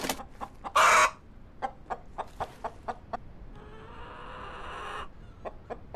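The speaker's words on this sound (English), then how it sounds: "What was that chicken?" A chicken clucks inside a water delivery horror video game, short clucks repeating in an uneven rhythm at moderate distance, with a brief loud burst and a stretch of steady hiss behind them.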